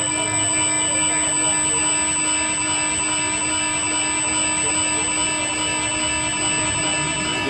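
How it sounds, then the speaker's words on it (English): Looted phones in a ransacked Apple store sound a continuous, loud, piercing electronic alarm, a steady high-pitched shrill tone holding without pause. "The phones themselves had an alarm go off on them."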